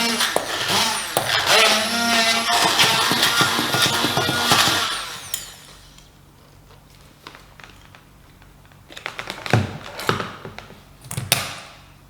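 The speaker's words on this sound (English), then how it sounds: "So the nuts don't need to be too finely ground" Nuts for pistou sauce ground coarsely in a blender or processor, a loud whirring burst for a few seconds, then quiet followed by a few clattering knocks.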